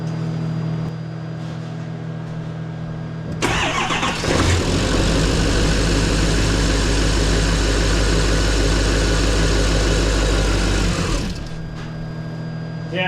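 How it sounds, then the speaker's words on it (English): A GM truck's Duramax diesel cranks and catches, then settles into a loud, steady, rumbling idle for several seconds before cutting off, with a voice briefly heard near the start. "give it a start, and then you'll have to, like I said, prime it again, and then it should start and stay running"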